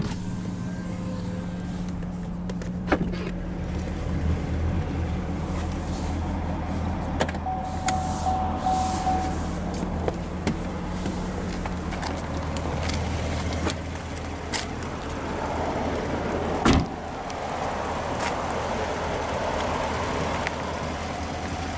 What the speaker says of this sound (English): now we'll roll down the driver's window